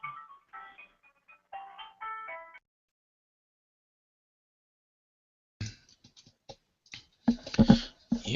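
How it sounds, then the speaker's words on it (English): Phone ringing with an incoming call during an online debate, a short melodic ringtone in brief repeated bursts, then quiet before clicks, rustles and muffled handling noises as the call is dealt with. "Okay, I got a phone call."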